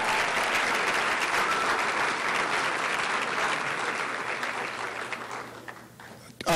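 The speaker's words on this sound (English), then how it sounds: "Give them a round of applause." An audience at a community college student achievement awards ceremony applauds the custodial and maintenance staff. Dense, sustained clapping fills the room and fades toward the end.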